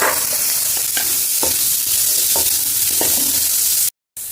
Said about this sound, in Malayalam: ഇനി കൂർക്ക ചേർത്ത് കൊടുത്ത് നന്നായിട്ട് മിക്സ് ചെയ്തെടുക്കാം